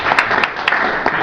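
Applause from an audience at a tech pitch event after a speaker is introduced, a brief burst of clapping from a crowd, fairly close and dense, lasting just over a second.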